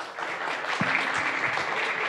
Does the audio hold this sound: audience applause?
yes